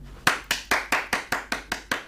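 Clapping in a live television broadcast studio: about nine sharp claps in a steady, even rhythm, close and clear, with no talking over them.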